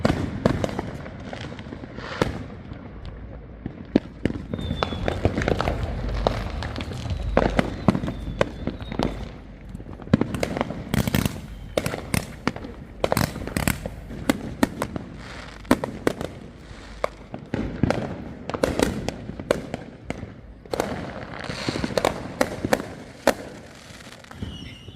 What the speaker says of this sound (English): We're in Pueblo, and it's illegal to have fireworks.